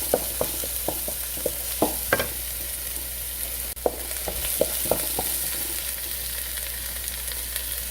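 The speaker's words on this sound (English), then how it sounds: "I'm going to let it saute a little bit." Spinach sautéing with garlic in a pan, a soft steady sizzle punctuated by a regular series of light utensil taps and scrapes as it is stirred; no voices.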